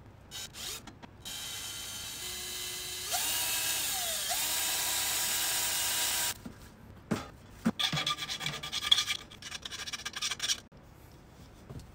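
Drilling holes in an electronic ride cymbal build, with a steady mechanical whine from about two to six seconds whose pitch rises and shifts, followed by brief rattling, handling clatter and scraping.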